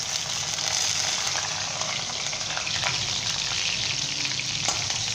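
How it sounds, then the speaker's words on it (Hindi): Green chillies fry in a pan for a Bihari egg and onion khagina, giving a steady, close sizzle with light stirring and no voices. "अब हम इसके अंदर सब्ज़ मिर्चें शामिल करेंगे"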